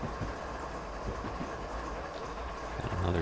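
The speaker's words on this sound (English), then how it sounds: "Got another train coming." A train approaches in Train Simulator on the Marias Pass route, a continuous low rumble with faint rail clatter that grows slightly louder toward the end.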